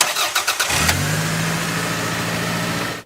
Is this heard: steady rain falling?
no